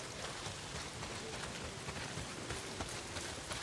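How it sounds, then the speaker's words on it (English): Steady, dense rain pours down in the open-world zombie game Days Gone, a continuous even hiss filling the whole stretch with no voices over it. "not if it's pissing down rain"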